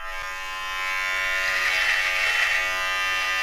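An electric razor shaves hair at a hairdresser's, giving a steady close buzzing drone that grows slightly louder partway through and runs on its own.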